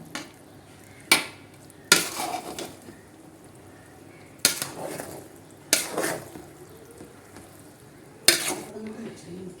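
Food stirred in a cooking pot over a low flame: sharp spoon clanks against the pot at irregular intervals, each followed by softer scraping, close and fairly quiet.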